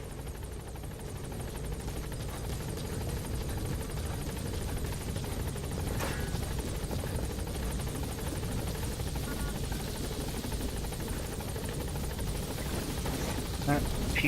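A helicopter hovers in a video game while people at a base complex shoot at it, its rotor producing a steady, loud droning whir throughout, with a couple of faint clicks and ticks on top.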